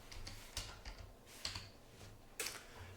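A search term being typed on a computer keyboard, heard as faint, sparse key taps and clicks over low background hum, with a few slightly louder strokes.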